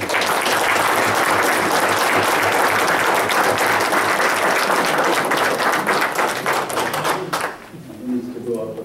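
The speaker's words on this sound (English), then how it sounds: "Danny Aranda, and a round of applause" Round of applause at a city council meeting, continuous loud clapping from a room of people that fades out near the end as a voice begins speaking.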